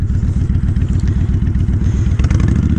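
A motorcycle is ridden with its engine running loud and close, a steady, throbbing drone with light mechanical clatter throughout.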